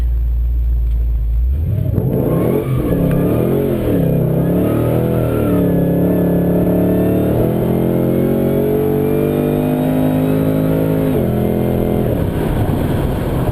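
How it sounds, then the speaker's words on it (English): A 650rwhp automatic Holden E3 Senator launches with wheelspin, its engine climbing and wavering through repeated loud revs as the throttle is worked, close and without talk. "it's just really spinning the wheels very easily"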